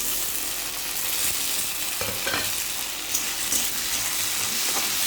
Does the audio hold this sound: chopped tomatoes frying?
yes